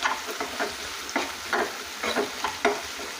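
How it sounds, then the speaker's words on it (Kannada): Onions and curry leaves fry in a pan for egg rice, a steady sizzle broken by about seven scraping stirs of a spatula at a fairly regular pace, close and alone with no voices. "ಈರುಳ್ಳಿ ಫ್ರೈ ಆಗಬೇಕಿದೆ ಚೆನ್ನಾಗಿ."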